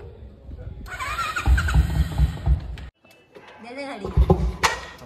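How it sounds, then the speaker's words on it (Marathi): Royal Enfield Bullet motorcycle being cranked without catching: a mechanical whir and rumble followed by a sudden cutoff, then a second attempt, with voices talking over it throughout. "मगाचपासून गाडी चालू करतोय, गाडी चालू होत नाही."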